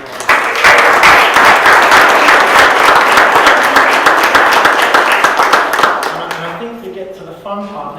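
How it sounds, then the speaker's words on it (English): Audience applause at an awards ceremony, a dense sustained burst of clapping from a large crowd that fills most of the clip before thinning out and giving way to a few voices at the end. "So let's give them all another round of applause."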